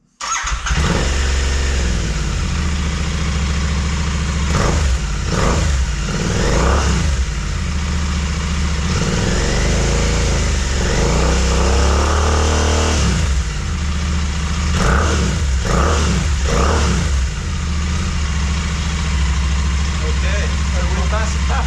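Royal Enfield motorcycle fitted with a Red Rooster slip-on exhaust starts up and runs loud and close, with a deep thumping idle broken by several throttle blips, while people talk over it.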